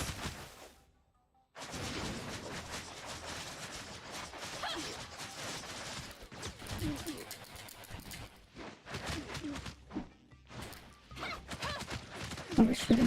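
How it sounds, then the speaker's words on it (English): Gunfire from shooting in the video game Tower of Fantasy, rapid dense bursts of shots and impacts that run almost continuously after a brief pause, mixed with game noise. "I'm shooting from above."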